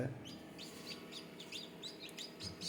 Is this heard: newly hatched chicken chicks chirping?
yes